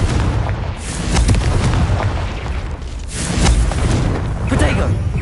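A Confringo blasting spell from the Hogwarts Legacy video game sets off a string of loud, booming explosions across the moment, with bursts rising and falling in steady succession and voices calling out over the din.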